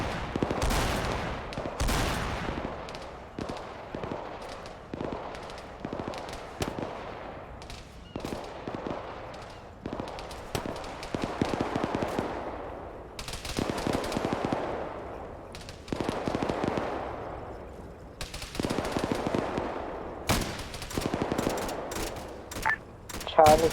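Rifle and machine-gun fire in a military video game, with repeated rapid bursts and single shots rolling on and off throughout, loud and close, while people talk over the action.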